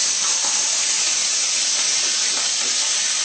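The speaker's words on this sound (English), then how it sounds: "the sizzling is very welcome, especially this kind of cooking" Steady, loud broadband hiss and crackle of shrimp searing in hot oil in a wok, continuous and close, with no talking.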